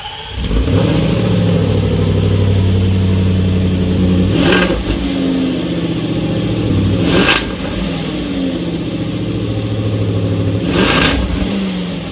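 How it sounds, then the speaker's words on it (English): A 2022 Land Rover Defender's 5-liter supercharged V8 rumbles loud and close, holding a deep steady idle-to-rev drone with three sharp blips of throttle spaced a few seconds apart, and nobody speaks. "you heard the sound of the V8 now, and obviously it is a really good sounding V8"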